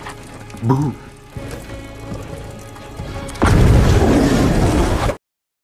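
A loud, rumbling blast erupts partway through and roars on as a dense, crackling wash of noise, following quieter background sounds and a brief voice.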